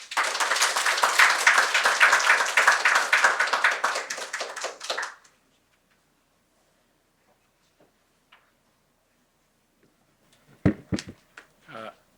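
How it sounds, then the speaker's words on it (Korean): An audience at a science and technology forum breaks into dense applause that lasts about five seconds and then stops abruptly, followed by near silence and a few scattered taps and knocks. "큰 박수로 모시겠습니다."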